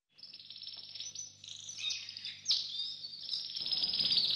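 A magpie calls repeatedly amid outdoor birdsong, bright chattering and chirping notes, fairly close and moderately quiet, with soft insect-like background.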